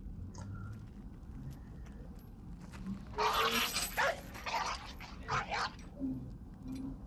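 Dog whimpering and yipping in Mad Max 2: The Road Warrior, a few sharp bursts in the middle of a busy film soundtrack, with people talking over it.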